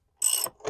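A ratchet on a swivel extension turns a 13 mm bolt on the battery hold-down bracket of a VW, giving one brief, close ratcheting click burst.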